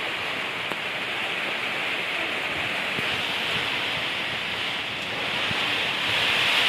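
Wind blowing outdoors over farmland during rain, a steady broadband rush that swells slightly toward the end, close and continuous with no voices.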